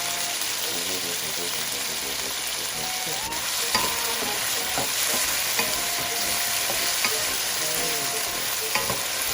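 Potato and sweet potato frying in a pan for chicken luncheon meat fried rice, a steady bright sizzle running throughout with occasional stirring clinks, close and continuous.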